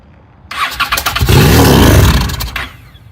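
A Honda Shadow motorcycle engine with a fuel fault cranks and fires up on brake cleaner, catching abruptly into a loud, rough running roar with no voices over it, then fading away.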